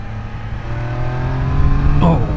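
A Triumph Daytona 660 sport bike pulls hard, its engine note rising steadily as it accelerates over a couple of seconds, loud and close with a whooshing sweep near the end.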